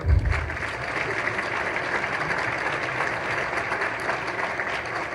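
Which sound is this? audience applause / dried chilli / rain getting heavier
audience applause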